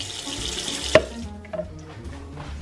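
Dishes being washed under a running kitchen tap, with water flowing steadily for about a second before a sharp clink, followed by quieter drips and faint splashes.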